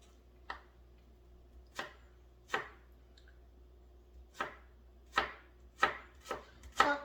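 A knife chopping ingredients for mango salsa on a board, about eight separate crisp thunks at irregular intervals, close in a quiet room.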